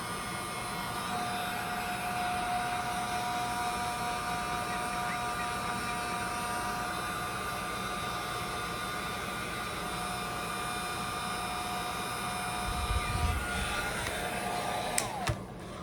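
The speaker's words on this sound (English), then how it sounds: "I'm going to use my heat gun." A handheld heat gun blows hot air, a steady loud whoosh with a constant whine, close by, ending with a few brief clicks and bumps.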